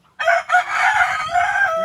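A chicken lets out a long, drawn-out call, loud and close, with a brief break near the start before it carries on steadily.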